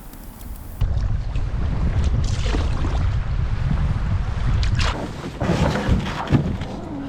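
A canoe paddled across a windy lake in the boreal forest in early spring at ice-out, with steady loud wind buffeting the microphone and occasional splashy paddle strokes through the gusts.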